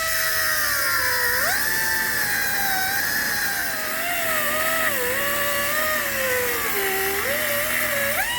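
A power tool cuts into the seized shaft boss on a Franna crane winch during teardown, a loud continuous whining grind whose pitch wavers and dips as the cut loads up, running steadily throughout with no talking.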